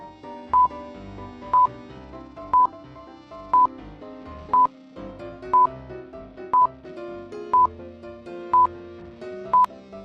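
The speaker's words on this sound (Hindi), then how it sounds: "मेहुल जब फोन के कीपैड को देखता है तो वो उन नंबर्स को कीपैड से मैच करने का ट्राई करता है।" Telephone keypad dialing tones, ten evenly spaced beeps about one second apart over steady background music, clear and close.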